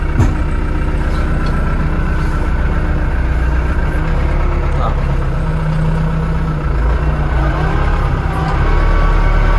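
A Kentavr S 504CU tractor engine drones and idles loudly throughout, low and continuous, with a voice talking faintly over it at times.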